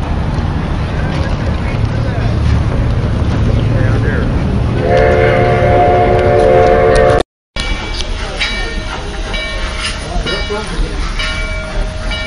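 A Durango and Silverton steam locomotive backs up during the 2011 railfest and sounds a clear multi-tone whistle midway. Rumbling rail noise runs throughout, there is a brief dropout, and people talk nearby.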